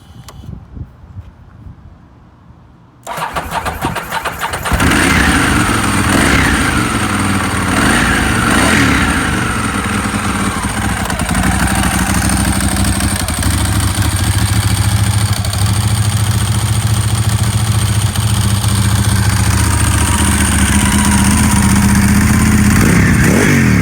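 A cold 1995 Ducati 916 motorcycle engine cranks and catches after a few seconds of quiet, then settles into a loud, close idle with several short rev blips early on, running steadily to the end.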